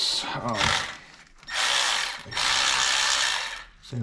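Ratchet wrench undoing a half-inch bolt on a G900 PTO brake, three bursts of rapid, close, fairly loud ratcheting clicks separated by short pauses.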